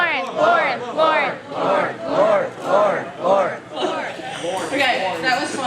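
Wedding guests at a toast chant together in a loud rhythmic group call, several swelling repeated phrases in steady pulses, with voices trailing into looser crowd noise at the end.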